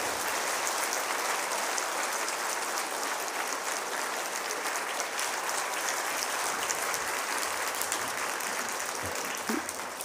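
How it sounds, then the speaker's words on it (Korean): A congregation at a Sunday church service gives sustained, even applause, a dense wash of clapping heard at moderate distance without interruption throughout. "뜨거운 박수로 우리 축하하겠습니다."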